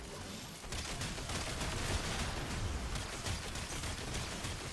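Sustained video game gunfire, a continuous dense rattle of rapid shots at steady loudness for several seconds with no pauses, heard alone without talk.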